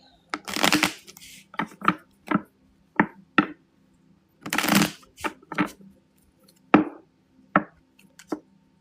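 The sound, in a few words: shuffling cards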